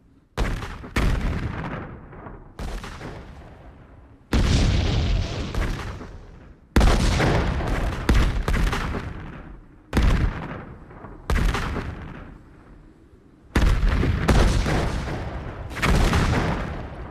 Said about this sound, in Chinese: 这一轮的轰炸炮弹量明显减少